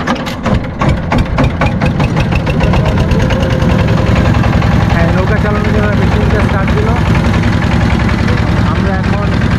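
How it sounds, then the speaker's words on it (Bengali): A motor boat engine chugs loudly and steadily on the Dharla river in Lalmonirhat, Bangladesh, a close, knocking, rhythmic diesel throb that rises at the start and then holds constant, with no voices. "এখন আমরা নৌকাতে চড়ে যাচ্ছি ধরলা নদীর কিনারে"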